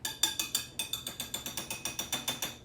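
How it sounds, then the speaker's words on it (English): A whisk coated in cheesecake batter is tapped repeatedly against a rim, a steady series of about a dozen sharp metallic knocks, close and evenly spaced. "I don't know how else to get this off the whisk"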